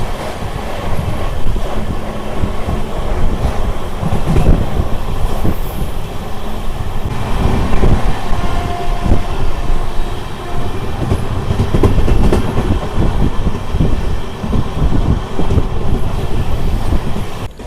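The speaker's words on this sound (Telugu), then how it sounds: "మన ట్రైన్ వచ్చేసి గుడివాడ జంక్షన్కి దాదాపు వచ్చేసి మనకు 11 నిమిషాలు లేట్గా అయితే వచ్చింది" A superfast express train rolls into Gudivada Junction, loud and close, with steady clickety-clack of wheels over rail joints, some wheel squeal and wind buffeting throughout, and no voices.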